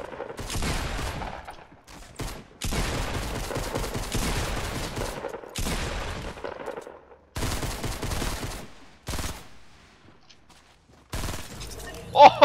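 Gunfire in Fortnite comes in several loud bursts of rapid shots separated by short quiet gaps, with a sharp crack near the end, while players talk over it.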